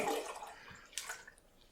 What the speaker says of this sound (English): pour in the remainder of our water, or nearly the remainder, saving a little bit to wash out the